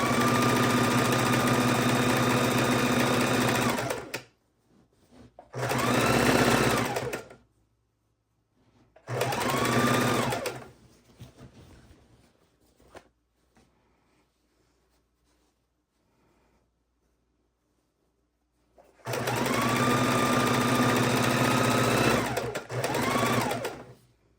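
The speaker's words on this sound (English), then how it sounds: "do it on the domestic machine like I am" A domestic sewing machine stitches binding onto a Christmas quilt in four loud, close bursts of whirring motor, separated by short pauses and one long silent gap, with no talking.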